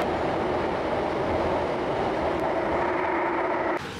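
Steady loud rumble from inside a moving metro train in Singapore, continuous rail and motor noise throughout, dropping slightly near the end.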